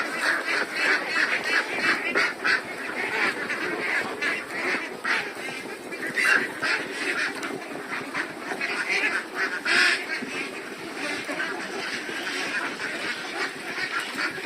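Two-month-old ducks honking and quacking together while being fed, a dense, busy chorus of overlapping calls that continues without pause.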